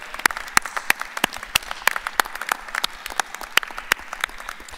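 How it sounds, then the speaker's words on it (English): Graduates at a 2021 physical therapy commencement clap for their families and loved ones, a thin, scattered patter of individual claps with sharp irregular hits rather than a dense roar, moderately close. "I would like each graduate to give a round of applause to the family and loved ones who supported you to reach this moment"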